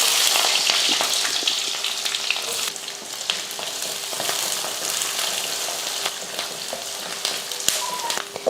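Onions fry in hot oil with mustard seeds and curry leaves, giving a steady, close sizzle with fine crackling pops throughout, no voices.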